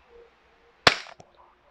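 A single sharp, loud pop from an Umarex Glock 19 airsoft pistol fired through a chronograph, with a brief tail and a faint click after, in a quiet room.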